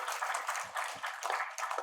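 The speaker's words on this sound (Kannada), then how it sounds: "ಬರ್ಲಿ ಒಂದು ರೌಂಡ್ ಚಪ್ಪಾಳೆ" A crowd claps through a short round of applause at a film event for the Kannada movie Kuladalli Keelyavudo, with steady, fairly soft, dense clapping.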